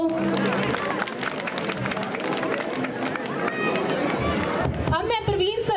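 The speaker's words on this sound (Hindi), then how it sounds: "एक बार ताली बजा कर तो देखो।" An audience at a school annual function claps in a dense, continuous burst of crowd applause mixed with chatter, and a voice rises over it near the end.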